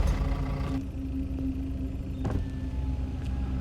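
A car pulled over at a night roadside checkpoint, its engine idling low and steady while a power window whirs for a moment near the start and again briefly later, close by, with no one talking.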